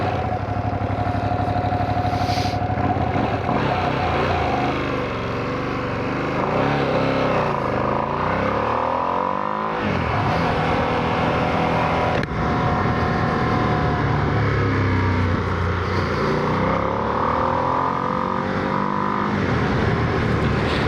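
A 2025 Ducati Streetfighter V2S motorcycle being ridden, its engine loud and close throughout, rising and falling through revs and gear changes with steady wind rush, no talking.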